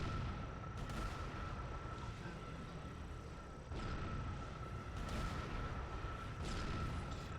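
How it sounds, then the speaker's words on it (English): Turret gunfire and plasma explosions in Halo: Combat Evolved on Legendary co-op, a dense, continuous roar of rumbling blasts and shots with a few sharper bursts standing out from the din. "I'm literally shooting the turret and seeing like plasma explosions come off of it, and then it continues to shoot at me."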